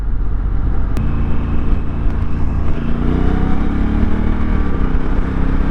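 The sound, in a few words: Honda Africa Twin DCT motorcycle engine accelerating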